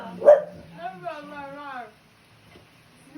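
An American Bulldog gives a short bark followed by a drawn-out whining howl, fairly close and clear, then fades to near quiet.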